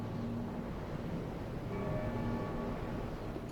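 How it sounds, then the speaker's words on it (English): Church bells ring in the game Dark Souls 3 near the Grand Archives, a steady, resonant tolling hum that sustains continuously at moderate volume beneath constant ambient noise. "I didn't expect bells. What do the bells signify?"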